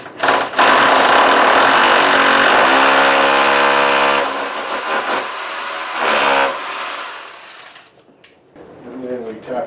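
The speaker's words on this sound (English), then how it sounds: "I'm going to drill my center hole here." A power drill bores a center hole into a brick wall while a rustic window shutter is being installed, a loud steady whine with pitch shifts from about 0.5 to 6.5 seconds before tapering off.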